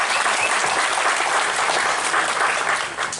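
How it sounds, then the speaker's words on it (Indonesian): Loud, close applause from an audience of eco-entrepreneurs at a book discussion on global warming, a dense, even burst of clapping that holds steady before tapering slightly at the end. "Tepuk tangan untuk teman-teman semua."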